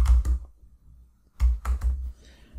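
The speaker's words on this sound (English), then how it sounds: "So I'm going to go ahead and type that in." Computer keyboard typing of network settings: two short bursts of quick, close key clicks separated by a brief quiet pause.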